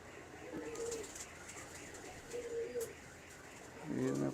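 A broad-feathered pigeon coos in low, soft phrases, three short bursts spaced a couple of seconds apart over a faint, steady background hum.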